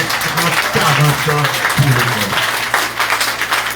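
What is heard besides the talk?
audience applause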